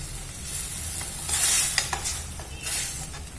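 Tomato and cashew paste hits a hot kadai for a raw jackfruit curry, giving a steady close sizzle with stirring scrapes and brief hissing bursts, no voices.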